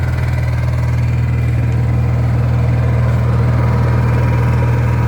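A Honda EU7000is inverter generator idles steadily, a loud, even low hum with a constant droning buzz and no change in pitch throughout.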